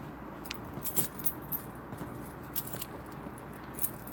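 A set of keys jangles softly as it is put away on a desk, with a few brief metallic clinks over faint steady background noise.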